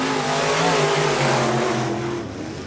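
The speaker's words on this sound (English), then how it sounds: "You can hear both drivers working the throttles through turns 3 and 4." Race cars at the Rock County Speedway fair races roar through turns 3 and 4 as the drivers work the throttles, with engine notes rising and falling in a loud, sustained drone that fades slightly at the end.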